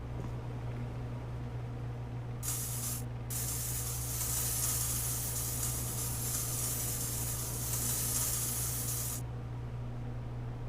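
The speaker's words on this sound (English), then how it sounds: "Some spray paint." A spray paint can hisses in the VR painting game Such Art, one short burst followed by a long, steady, loud spray of bright noise at close range, with no talking over it.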